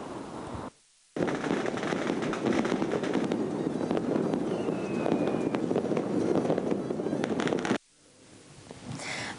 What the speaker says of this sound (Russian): В полночь под удары старинного колокола небо озарил красочный салют